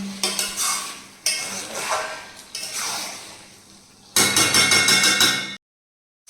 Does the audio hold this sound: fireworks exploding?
no